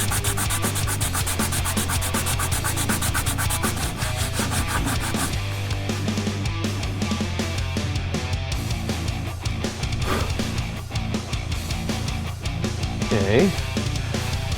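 Hand sanding with 120 grit sandpaper on a 1:350 Enterprise Refit model saucer gives close, rhythmic scratchy rubbing strokes that continue steadily throughout.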